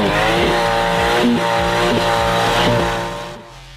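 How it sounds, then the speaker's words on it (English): An Aston Martin V12 Vantage roars steadily through a full stainless steel exhaust with a deep, raspy note, rising and settling in revs before easing off at the end. "The voice of the V12 is the full stainless steel exhaust peeking out the back."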